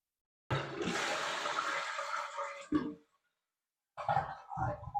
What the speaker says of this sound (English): That water starts to flush and moves waste through the toilet.